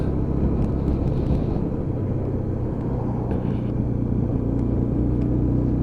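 UM Renegade Commando Classic cruiser motorcycle engine rumbling steadily while riding, a constant low throaty drone with wind noise, no talk heard.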